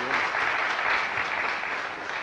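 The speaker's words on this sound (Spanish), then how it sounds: "Yo creo que podemos dar otro aplauso a Javier por su intervención." Audience applause following a lecture at a faith-and-science talk series, a dense, steady clapping from a crowd that fills the whole stretch at even loudness.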